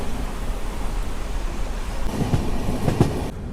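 Sabari SF Express sleeper train rolling along with steady rumble and a few clickety-clack wheel beats over rail joints, heard from inside the coach.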